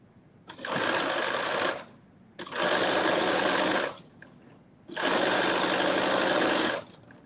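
A sewing machine stitches a seam at 5/8 inch allowance on a Simplicity 9825 garment, running in three steady, loud bursts of about a second and a half each, separated by short pauses.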